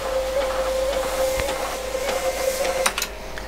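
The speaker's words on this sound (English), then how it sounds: "as soon as you try and send anything to it, it just starts feeding out paper until you tell it to stop" The built-in printer of an HP 9845B computer, under repair, feeds out paper continuously. It gives a steady mechanical whine with irregular clicks and ticks nearby, and no voices.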